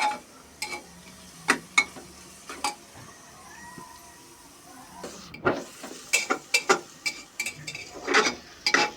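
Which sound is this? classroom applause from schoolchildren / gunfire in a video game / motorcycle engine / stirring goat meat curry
stirring goat meat curry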